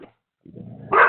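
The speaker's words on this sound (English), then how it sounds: "that's my dog Bernie." A dog named as the speaker's own barks once, a loud close bark rising out of a brief quiet in a home setting.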